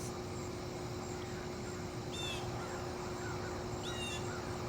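Birds calling outdoors on a cold autumn day among falling leaves, two brief high chirping calls rising over a steady broadband outdoor hiss.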